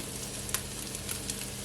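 White scallion pieces stir-frying in a hot pan give a steady close sizzle, with a sharper burst of frying near the end.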